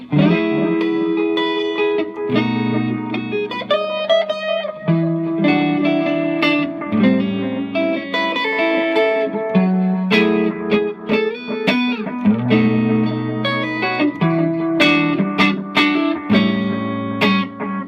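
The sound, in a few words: electric guitar through Egnater Tweaker 15 watt amp with echo effect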